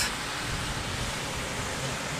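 A small waterfall on the Faroe Islands gives a steady broadband rush of falling water, constant and fairly near, with no voices.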